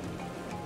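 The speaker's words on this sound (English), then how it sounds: "Also, I noticed it's raining again." Steady wash of rain falling in the ARK video game, a soft continuous hiss with no distinct drops, brief and fairly quiet.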